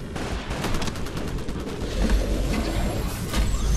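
Rapid automatic gunfire crackles in a Titanfall match, bursts of shots stacking into a dense, loud fusillade that keeps going for a few seconds with heavier booms near the end.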